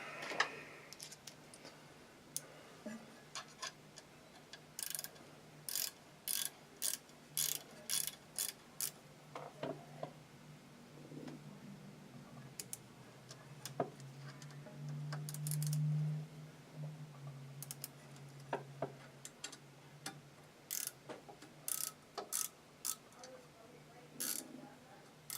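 A screw being removed from a Camdex JS-6300 during parts installation: faint, irregular metallic ticks and clicks of a screwdriver working, close and quiet, with a brief low hum midway.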